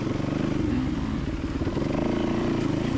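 A dirt bike engine revs in short throttle blips on a rocky, log-strewn canyon climb trail to Melissa Peak, a loud, close, pulsing rumble throughout.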